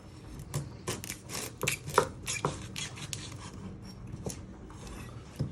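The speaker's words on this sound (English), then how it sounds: "You first chop your end." Knife chopping through the end of an onion on a cutting board while preparing pea and ham soup, a series of sharp close taps in irregular rhythm with light scraping between cuts.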